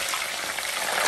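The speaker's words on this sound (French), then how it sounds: "Je vais le frire comme ça." Beef tripe frying in a pan, a steady dense sizzle with crackling spatter that holds loud and even throughout, with no voices.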